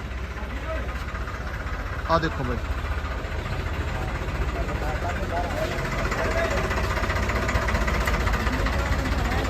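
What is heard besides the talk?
Farmtrac 60 tractor engine idling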